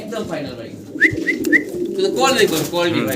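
Pigeons kept for sale by a breeder coo in a few soft, close, repeated phrases while people talk nearby.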